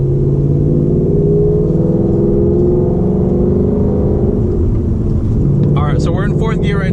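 A manual-transmission car cruises steadily in fourth gear, its engine a low, continuous drone heard from inside the cabin, with a short burst of voice near the end.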